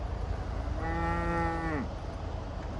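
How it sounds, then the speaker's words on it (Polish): Cows standing on a road in the Geiranger area of Norway let out a single long, drawn-out moo, fairly close and clear over steady background hum, with no talking. "a tu stoją krowy"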